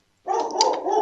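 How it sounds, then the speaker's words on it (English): One short, sharp bark from a dog, close and fairly loud, heard alone after a moment of silence with no voices. "I'm sorry about this dog."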